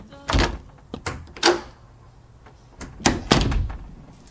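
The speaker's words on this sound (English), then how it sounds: "spends almost 5 full minutes undoing all the locks and bolts on his front door before he enters his home" Locks and bolts on a front door are worked one after another, giving sharp metallic clunks and clacks in separate bursts with short quiet gaps between.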